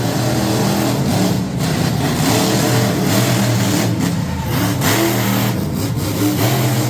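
Monster truck engines rev hard at the start of a head-to-head race, a loud, continuous roar of revving and accelerating motors with no clear pauses.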